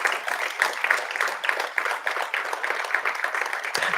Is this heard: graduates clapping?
yes